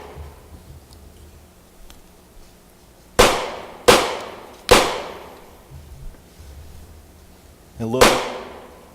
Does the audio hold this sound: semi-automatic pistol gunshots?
yes